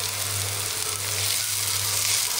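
Halved cashews frying in hot oil in a pan, a steady close sizzle with a faint low hum underneath and no talking.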